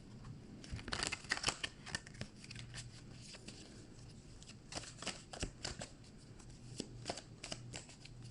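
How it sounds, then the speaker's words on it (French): A deck of tarot cards is shuffled by hand up close, with quick papery riffles and flicks coming in irregular bursts, soft and intimate. "On va faire un tirage à 9 cartes."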